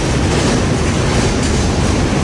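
Freight train rolling steadily past close by, including a BMSX freight car, with continuous loud rumble and wheel clatter throughout and no voices.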